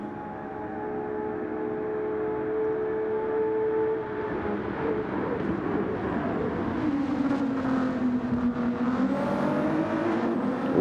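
Race cars, a Ferrari and a Dodge Viper, roar continuously in a racing game, engines holding a steady drone with pitch sweeping down and back up as they battle down a straight, loud and alone.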